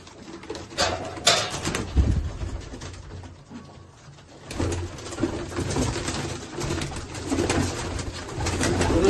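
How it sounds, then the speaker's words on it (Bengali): Domestic pigeons coo softly at a breeder's home loft, with a few sudden bursts of wing flapping and shuffling near the start; moderately close, with no speech. "দেখো পায়রা খুব ছটফট করছে।"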